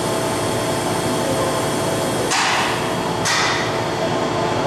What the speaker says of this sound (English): Head is now being indexed.